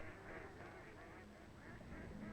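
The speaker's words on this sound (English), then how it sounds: "now they often gather in huge flocks that can cover an entire lake" A large flock of ducks and geese gathered on an autumn lake, a steady distant wash of quacks and honks blending into a continuous murmur, faint and far off.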